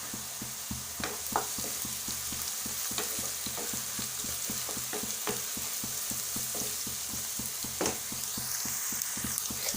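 Egg curry with green chillies sizzles steadily in a pan while a utensil stirs and scrapes it in irregular close taps, with no voices.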